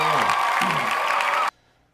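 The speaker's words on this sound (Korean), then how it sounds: "박수." Students' class gets a burst of applause and cheering for top exam results, a dense wash of clapping with a few shouts that cuts off abruptly after about a second and a half.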